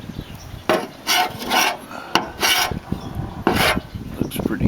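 A spreader drags another coat of Bondo body filler across the rear metal of a 1968 AMX, giving loud, close scraping strokes in quick irregular bursts with brief pauses between swipes.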